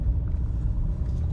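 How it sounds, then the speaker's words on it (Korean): A car labors up a snowy mountain road in a remote valley, its engine giving a steady, heavy low rumble from inside the cabin with no break. "자동차가 어떻게 빌빌하는 게 힘이 없네"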